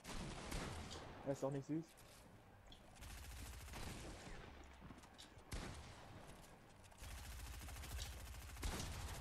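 Video game gunfire in Fortnite, bursts of rapid shots rattling repeatedly at moderate loudness, mixed with game sounds while players talk over it.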